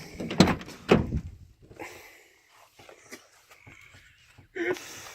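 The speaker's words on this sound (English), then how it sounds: "Open the other door so we let the smoke out." The door of a Ford Ranger truck opens with two sharp clunks near the start, followed by faint creaks and scattered knocks and a brief squeak near the end.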